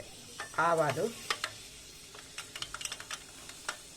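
Fenugreek seeds drop into hot oil for a mango pickle, giving a short burst of sizzle, then a run of small crackles and pops as they fry.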